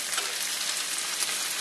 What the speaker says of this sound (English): Now as you fry this, you should be frying it till it's golden brown on each side